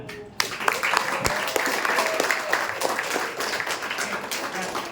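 A classroom of students applauding after a presentation during a teaching practice session, dense clapping that starts abruptly and carries on steadily, with some chatter mixed in.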